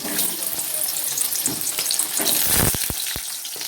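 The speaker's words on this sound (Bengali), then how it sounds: "এদিকে কড়াই বসিয়ে দিয়েছি তেল গরম হয়ে গেছে পটলগুলো ছেড়ে ভেজে নেবো" Halved pointed gourds (potol) frying in hot oil in a wok, a steady close, dense sizzle with a few sharp spatters and stirring clinks near the end, no voices.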